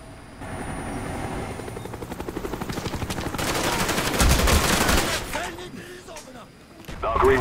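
A Cobra attack helicopter arriving in the video game Black Ops, heard as a steady rotor thrum under heavy rattling machine-gun fire that swells loud midway and then eases, with a fresh burst at the end.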